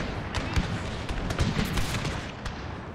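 Two hundred men fire muskets at an enemy general in a Total War battle set in the Thirty Years' War, a dense, continuous crackle of overlapping shots with scattered sharper reports, heard from a short distance.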